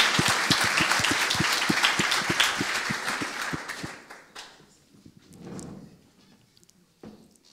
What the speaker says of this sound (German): nochmal einen großen Applaus für den ersten Beitrag zum ersten Tribal Slam